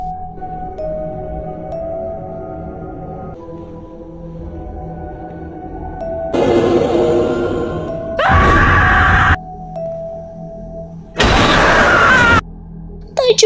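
A woman screams in an Indian horror film, long harsh cries in two loud bursts over a tense, droning film score.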